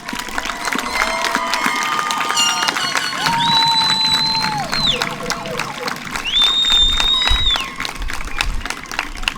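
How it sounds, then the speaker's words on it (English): A large graduation audience for the class of 2020 claps and cheers steadily and loudly throughout, with whistles rising over the crowd noise. "Please join me once again in applauding for these young people today."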